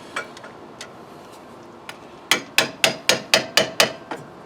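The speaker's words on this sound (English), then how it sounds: "maybe I have to get a little hammer or something and tap on this" A hammer strikes metal on a Porsche 944 engine part in a quick, even run of about eight sharp taps, preceded by a few lighter, scattered knocks.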